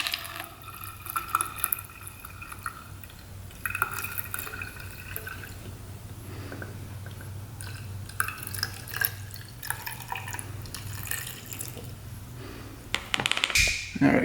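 Coolant trickles and drips into the radiator of a used Honda ATV, small splashy pours and drips at close range over a faint background hum, ending with a louder clatter.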